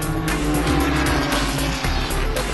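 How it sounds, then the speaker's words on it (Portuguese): A race car roars past on the Londrina circuit during a Sprint Race round, a loud, sustained engine howl with broadband tire and track noise, steady and close throughout. "Vai passando ali o carro número 12."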